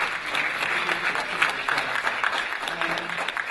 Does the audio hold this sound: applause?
yes